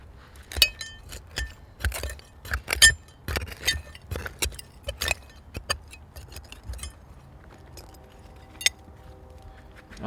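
Old glass bottles dug from a woodland dump pit clink and tap together as they are handled, a series of sharp, close clinks at an irregular rhythm that thins out toward the end.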